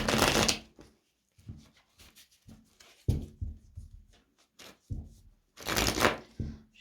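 An oracle deck, the Petite Étoile cards, slightly sticky, is shuffled by hand in several short, papery bursts of riffling and sliding, separated by brief quiet pauses, close and alone.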